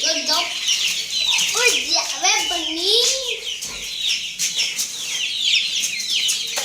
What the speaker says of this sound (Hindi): सबसे पहले अपने चूज़ों को और मुर्गी को छोड़ते हैं कि वो दाना खा लें।